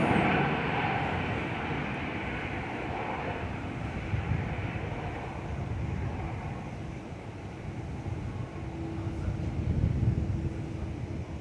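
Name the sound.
Boeing 737-800 landing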